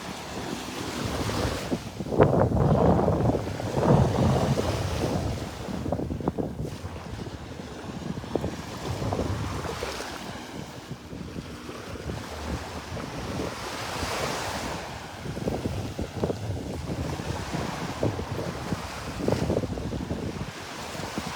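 Waves wash onto a beach at Delnor-Wiggins Pass State Park, with surf rising and falling under steady breeze and wind buffeting the microphone, heard continuously during a morning walk without talk.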